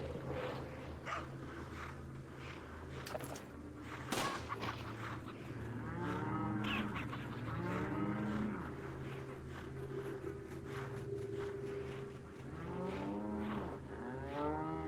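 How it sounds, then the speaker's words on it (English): Cows moo repeatedly in the Resident Evil 4 VR farm village, loud nearby bellows with rising and falling tone arriving in clusters over a steady low background hum, with no talking. "God, the cows are so loud."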